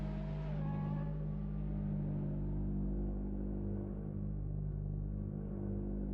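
A racing buggy engine idling, a steady low rumble with constant tonal hum held at an even level for several seconds, somewhat distant and without revving.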